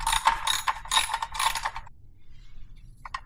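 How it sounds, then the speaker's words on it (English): A ratchet torque wrench tightens the oil drain bolt on a Porsche Cayenne, four loud rapid clicking bursts in a steady rhythm, then a pause and a couple of faint clicks near the end. "I'm gonna go ahead and bolt this back up, and we're gonna torque this down to 22 foot-pounds."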